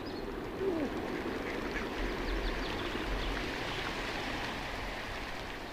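Ducks at the Great Salt Lake give a few scattered quacks, fairly close. A steady wash of flowing water runs beneath them.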